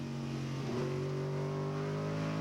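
A race truck engine drones steadily from the on-board camera of Jimmy Engelbright's truck in a 2000 NASCAR Craftsman Truck Series race. The tone holds, with a brief dip in pitch near the middle, loud and alone without talk.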